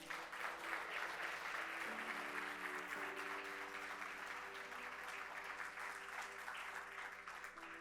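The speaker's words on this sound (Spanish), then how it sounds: "Denle un fuerte aplauso a Jesús" A church congregation claps during a Sunday service, a soft, even wash of applause with sustained organ or keyboard chords held beneath it, fairly distant and quiet.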